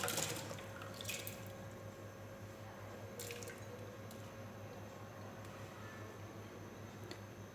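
Water is poured into a cooking pot holding mash lentils for dhaba-style daal, making a steady, soft splashing and trickling sound that continues throughout, fairly faint and without voices.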